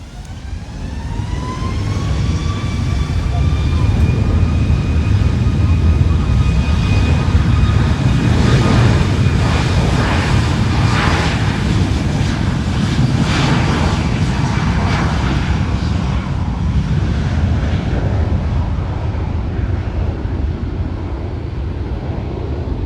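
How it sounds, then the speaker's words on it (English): A JetBlue Airbus A321 departs from the runway at San Juan airport, a loud, sustained jet engine roar with a deep rumble that holds strong and close throughout, with no talking. "Then we'll have another JetBlue A321 departing."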